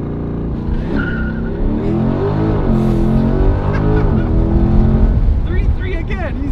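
A C8 Corvette launches hard from a standstill at the track, its engine roaring loud and close with a rising pitch over several seconds, with a possible hint of tire noise.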